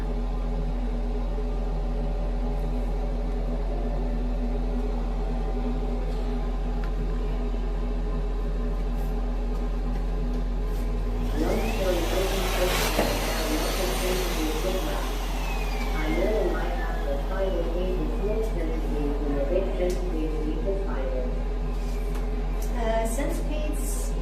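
A vacuum cleaner hums steadily while cleaning a back wall in an old limestone house, a constant droning whine with bursts of suction and scraping nozzle noise partway through.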